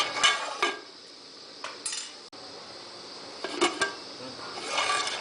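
Metal utensil scraping and clinking against a pan while drumstick, egg and tomato curry is stirred, several short bursts spread through the clip over a quiet background.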